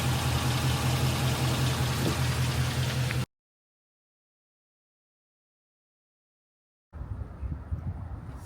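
A 2019 Dodge Durango R/T engine idles steadily at moderate loudness for about three seconds, then cuts to silence, and a fainter low rumble of activity returns near the end.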